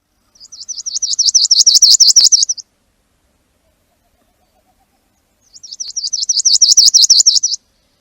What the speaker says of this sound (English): Their song is a slow, hoarse trill, almost as if they caught a cold from being on the ground.